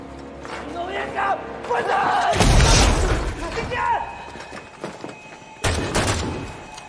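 Bursts of gunfire and a heavy boom crash through a dramatic war film soundtrack, with loud impacts rising sharply, then a second blast near the end.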